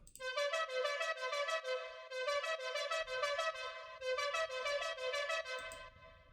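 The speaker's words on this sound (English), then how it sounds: "The last pattern I'm going to show you is this arp, and it sounds like this." Future house synth arp from the second part of a drop, a bright, harmonic-rich pattern of rapid repeating notes held at steady loudness, with brief gaps and a faint low thump beneath in places.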